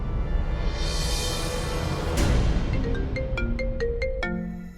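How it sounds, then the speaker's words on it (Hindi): A phone ringtone plays a bright electronic melody of rising and falling notes, clear and moderately loud over a low background hum, after a whooshing sweep. "मेरी एक दोस्त का फोन आ रहा है"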